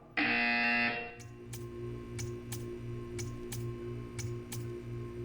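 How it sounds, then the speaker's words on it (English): In the Portal 2 video game, a short, harsh electronic buzzer blares once, followed by a steady series of ticking clicks over a low hum. "When you hear the buzzer, stare at the art."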